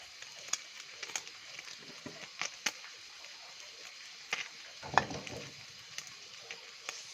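Eggs frying in a pan for a seasoned Thai-style omelette give off a steady, fairly quiet sizzle with scattered sharp pops and crackles, and no voices.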